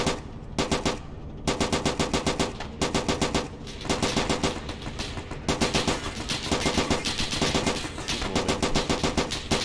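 Automatic weapons fire in the Arma 3 military game, rapid loud bursts of machine-gun shots in long rattling strings with brief gaps, close and dominant with no talk over it.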